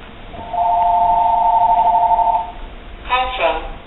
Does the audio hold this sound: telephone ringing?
yes